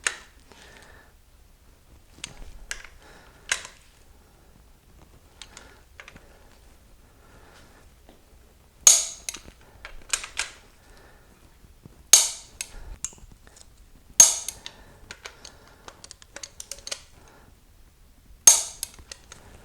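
A torque wrench tightens bolts to 50 foot-pounds on an Oldsmobile 455 V8 engine build for a 1987 Olds 442. Sharp metallic clicks come singly and in quick pairs, spaced out by quiet gaps.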